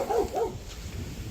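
Dog barking twice in quick succession near a pickup truck under repair, a loud close pair of barks followed by quieter rustling and background noise.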